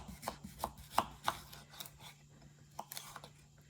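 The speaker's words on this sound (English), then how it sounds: "then we are going to cut them in thin slices, about 1/4 inch" Squash being sliced thin with a knife on a cutting board, a series of crisp, close chops in an uneven rhythm, quieter toward the end, with no talking.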